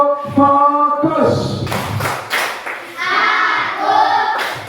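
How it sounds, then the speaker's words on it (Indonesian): Schoolchildren perform the rhythmic 'tepuk fokus' clap in a classroom, a few sharp claps and thumps mixed into their chanting voices, loud and close. "anak-anak tepuk fokus"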